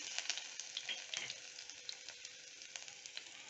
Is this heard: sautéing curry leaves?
yes